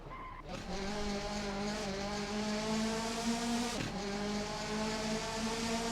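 A race car engine in Assetto Corsa, set at the Goodwood Festival of Speed, roars loudly at steady high revs, with a brief dip and tire squeal midway before the sustained drone continues, no talk.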